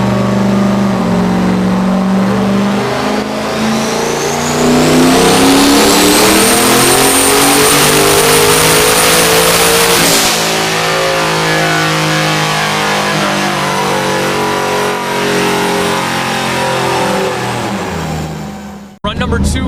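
Turbocharged LS1 engine in a Trans Am on a chassis dyno, loud and close, climbing steadily through the revs in a long sustained pull, then dropping off sharply at the end of the run.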